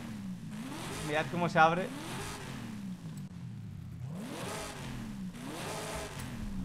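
A supercharged Dodge Dart Hemi engine in Forza Horizon 5 revs in repeated rising and falling sweeps, loud and steady, with someone talking over the first rev.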